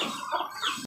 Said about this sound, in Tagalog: At yung itim ko din na manok.